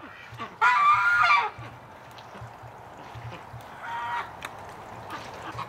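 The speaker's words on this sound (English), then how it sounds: "Ducks are totally enjoying the night." Ducks honk and quack at night outside a dimly lit barn, one loud burst of calls standing out near the start, then quieter scattered calls over a low steady background.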